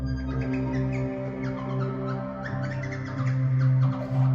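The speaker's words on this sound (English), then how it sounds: "the combination of the DPO, the clouds, and the noise ring gave us this effect." A modular synth patch runs a DPO oscillator through Clouds pitch shifting and a noise ring, giving a steady, dense drone with chirping, twittering upper textures that flicker continuously at an even, fairly loud level.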